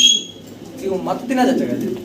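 Fancy pigeons cooing at a pigeon market, soft low coos close by, mixed with a person talking.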